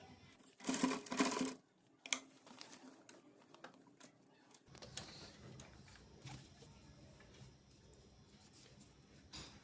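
A sewing machine stitches a designer sleeve, running in a loud burst of rapid mechanical clatter for about a second before dropping back to quieter room noise.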